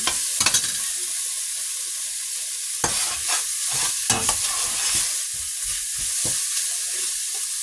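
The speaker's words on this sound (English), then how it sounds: "I'm going to let it brown for another minute." Food browning in a hot pan for a budget five-ingredient meal, crackling and sizzling with frequent sharp scrapes and taps of a utensil, close and fairly loud, no one speaking.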